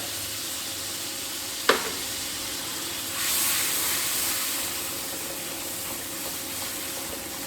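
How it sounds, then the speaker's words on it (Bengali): Raw mango paste added to a frying pan of puti fish sour dish with boiled water, a sharp splash followed by steady hissing sizzle that swells briefly and then settles, close by with no talk. "এবার এতে আমি দেব কাঁচা আমের পেস্টটা।"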